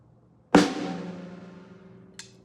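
A single drum stroke hit with the right hand lands once as a sharp attack that rings and decays for over a second, followed by a faint short tap.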